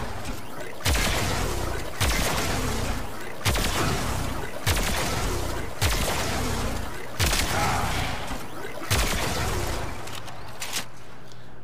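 The Opticore Vandal in the video game Warframe fires charged shots at bombards, loud booming blasts landing roughly every second and a half in an even rhythm over a constant background drone.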